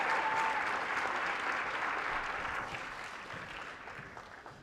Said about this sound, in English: So please give them a warm hand of applause.